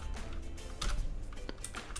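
Typing on a computer keyboard during an Arch Linux install: close, quick irregular key clicks with a few louder taps, no voices.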